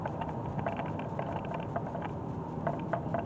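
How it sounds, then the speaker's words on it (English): Low, steady tire and road rumble inside a moving 2018 Honda Pilot, heard as a faint, continuous cabin hum with no talking. "it's always going to have some road noise"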